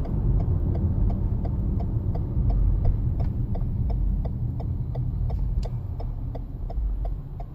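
Tire noise from a 2014 Toyota Highlander on a rough road, heard from inside as a loud, constant low rumble with a regular, evenly spaced ticking beat running through it, no talking.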